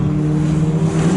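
Loud, close engine drone of a historic Formula Ford race car on track at Snetterton, a steady buzzing tone holding through the moment with a slight pitch rise.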